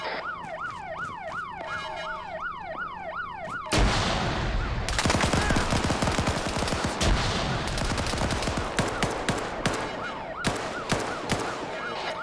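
Rapid bursts of automatic gunfire from a video game firefight, loud and dense from the fourth second onward, crackling shots over a wavering siren-like tone earlier in the clip.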